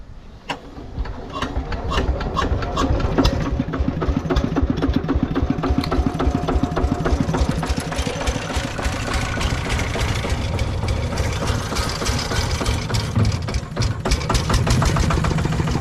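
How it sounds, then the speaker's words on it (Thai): A ZT 180 engine turns over and settles into a steady idle, a loud, close mechanical chug with rhythmic knocking that runs evenly throughout. "เดี๋ยวขอติดเครื่องแป๊บนึงนะครับ"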